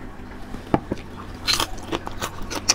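Crispy fried grasshoppers bitten and chewed close up, giving a series of sharp crunches and crackles with small gaps between them and no talking.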